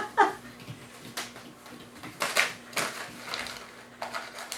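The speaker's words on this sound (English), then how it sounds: "a lot of puppies don't like the sound of the paper" Paper crinkles and rustles in short, scattered bursts, fairly close, with quiet pauses between the crackly handling sounds.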